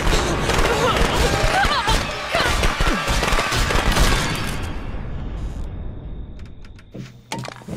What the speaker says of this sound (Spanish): Aquí adentro tenía más fuegos artificiales, Jenny